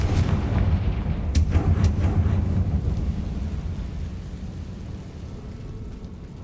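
Confringo explosive spell cast in the video game Hogwarts Legacy, a heavy booming blast with a few sharp cracks early on, then a long rumbling decay that fades out over several seconds.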